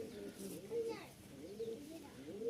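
Hand-flown pigeons in a loft cooing softly, a few faint rolling coos close by over light background noise.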